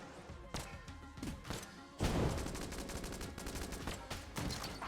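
Repeated gunshots from the Enter the Gungeon video game, sharp bursts in quick irregular succession, with a heavier thudding blast midway and rapid fire continuing after it.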